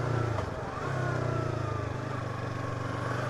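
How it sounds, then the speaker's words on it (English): Yamaha R3 motorcycle riding slowly along a road at around 40 km/h, a steady mid-pitched engine hum with slight throttle changes, fairly quiet and heard from the rider's position. "That's a good thing about a Yamaha R3. Even going slow, this thing is fun."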